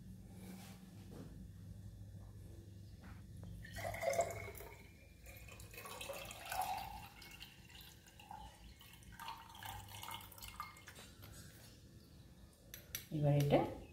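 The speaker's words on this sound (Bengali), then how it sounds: "এবার এটা ছেঁকে নিয়েছি" Fennel seed sherbet, mixed with a powder and a little salt, is poured through a strainer, giving soft dripping and trickling with a few light clinks of utensils and dishes, fairly quiet throughout and with no talk.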